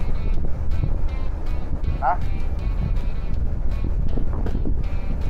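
Wind rushes loudly past a passenger riding a fast motorcycle through traffic in Thailand, with constant buffeting noise and engine rumble, and a voice heard briefly.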